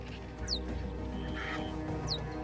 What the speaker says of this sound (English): The birds fight angrily with each other